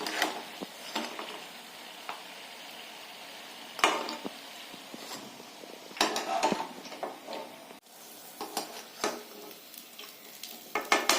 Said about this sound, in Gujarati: આવી રીતે આપણે એને તળી દેવાની છે અને આ તળી ગઈ છે એને આપણે બહાર કાઢી દઈશું